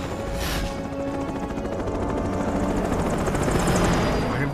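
A video game helicopter whirs with a steady rotor drone throughout, loud and close, mixed with game noise and possible gunfire bursts.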